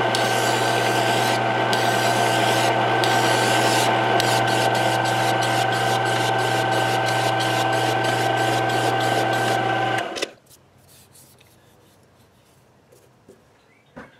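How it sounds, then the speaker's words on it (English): Sandpaper held against a small bushing spinning in a lathe for a mini Indian swing arm: a steady close rasping rub over the lathe's constant hum for about ten seconds, then the machine stops abruptly into near silence. "just use some sandpaper and just take that down a little bit"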